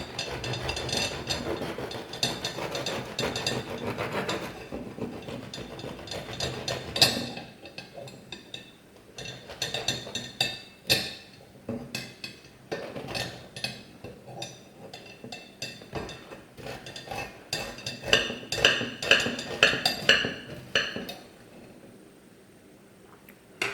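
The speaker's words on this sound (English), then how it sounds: "To cut the bread, you do need a serrated knife." Hot, freshly baked homemade bread from a Tesco BM1333 breadmaker being sawn with a serrated knife: close, rasping back-and-forth strokes in irregular bursts, with a few crackly crust sounds and no talk.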